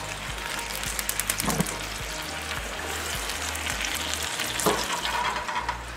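Bacon crisps on a grill under the rear rotisserie burner, giving a steady close sizzle and crackle with a couple of sharp clicks or scrapes partway through.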